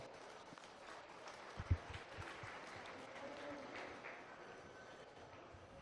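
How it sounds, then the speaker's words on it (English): Spectators at a market and breeding beef show give the exhibitors a fairly quiet round of applause, scattered clapping in a large hall with a thump near the start and faint crowd murmur. "Give those exhibitors a round of applause"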